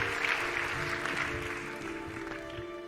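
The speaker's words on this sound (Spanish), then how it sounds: "le damos un nuevo aplauso a Jorge Olcina" Audience applause at a science congress session, a fairly faint wash of clapping under a steady background hum that fades gradually over a few seconds.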